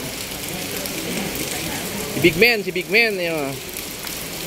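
Rain falls steadily outdoors as a continuous soft hiss, with people talking nearby over it.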